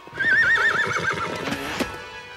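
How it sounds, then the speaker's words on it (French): A horse whinnies loudly with a wavering, high neigh, then softer snorting and clopping follow under a busy background, in an animated series battle scene. "ce cheval ne vaut pas tonnerre"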